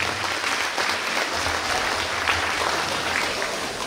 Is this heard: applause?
yes